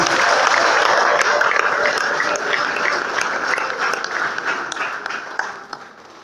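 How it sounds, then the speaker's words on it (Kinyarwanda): A church congregation applauds together, steady dense clapping from many hands filling the room, gradually thinning and fading toward the end. "Tuyikomere amashyi y'agaciro."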